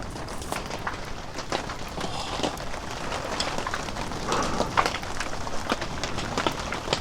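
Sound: rain pattering on an inflatable tent in a storm

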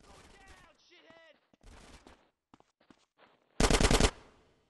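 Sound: suppressing gunfire in video game GTA San Andreas

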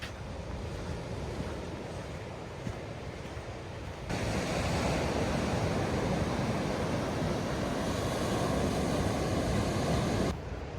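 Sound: sea waves on the Tasman Sea, Bruny Island

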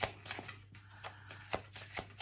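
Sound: shuffling tarot cards

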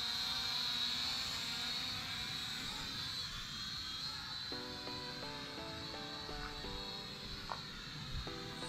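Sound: toy drone flying

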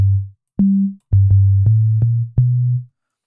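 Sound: sine wave synth bass

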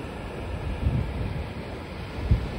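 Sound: ocean waves at Vagator Beach, Goa

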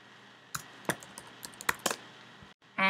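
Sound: typing on a computer keyboard

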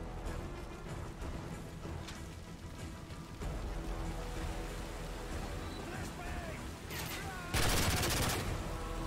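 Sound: flashbang grenade in video game Modern Warfare 3

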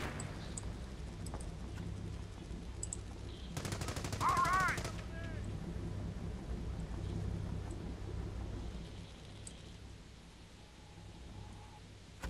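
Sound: machine gun crew firing in Company of Heroes video game

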